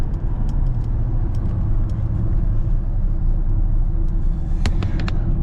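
A Range Rover diesel engine runs at steady, loud idle-like rumble throughout, with the throttle pressed but little clear rise in revs; a few sharp clicks and ticks come through near the end.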